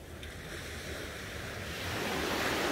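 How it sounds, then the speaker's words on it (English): Ocean waves wash up gently onto a sandy shore in a steady, broad hiss of surf, with some wind buffeting the microphone, swelling slightly louder toward the end. "The peaceful waves gently lapping on the shore, washing gently up to the sand."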